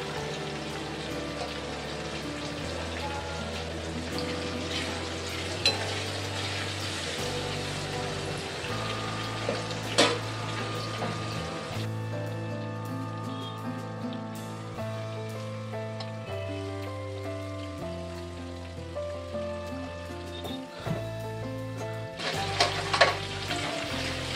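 Crabs frying and sizzling in a spicy tomato curry base cooked village style, a steady close hiss with occasional stirring, mixed under continuous background music.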